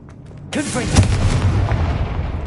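The Confringo blasting spell in Hogwarts Legacy goes off with a sudden loud booming blast and crackling fiery rumble that lingers and decays, close and heavy, following a few quieter sounds.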